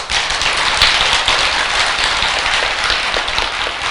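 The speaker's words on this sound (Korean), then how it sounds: "그 스님한테도 박수 한번 보내" Audience applause during a Korean Buddhist winter-solstice dharma talk at a temple hall, dense steady clapping from a crowd, loud and continuous with no voices over it.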